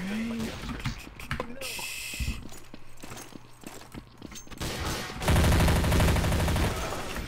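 Gunfire from the video game Counter-Strike: Source, short bursts and single shots crackling through the first half, then a dense, loud stretch of rapid fire near the end.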